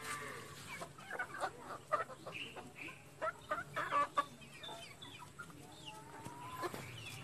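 Chickens and chicks in a backyard coop cluck and peep repeatedly at close-to-mid range, short irregular calls scattered over quiet outdoor ambience.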